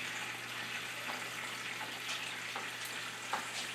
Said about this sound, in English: We're going to get that to a sizzle.